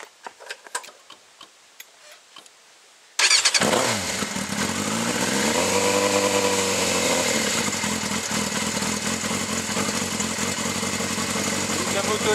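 A motorcycle engine starts abruptly after a few seconds of quiet ticking and handling noises, then settles into a loud, close, steady idle whose pitch dips and rises briefly before holding even.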